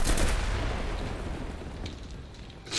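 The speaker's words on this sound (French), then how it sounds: "les tirs d'artillerie sont censés passer." Artillery fire in the World War II shooter game Enlisted: a loud, close blast opens, then decays into a long rumbling tail, and a second sharp impact bursts in at the very end.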